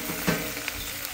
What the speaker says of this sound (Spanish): se están haciendo las salchichas con su cebollita aquí al lado y los chilitos asados o fritos